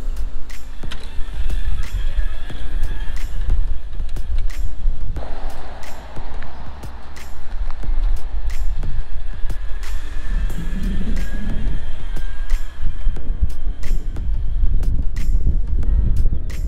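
The electric motor of a home-built DIY super bike whines continuously during a ride, with road rumble and wind buffeting up close, and occasional shifts in pitch as the bike speeds up.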